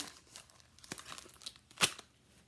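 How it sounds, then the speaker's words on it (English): Tape is peeled off a package in a few quiet, close tearing and crinkling strokes, the last one sharp and louder. "Go ahead and take the tape off here."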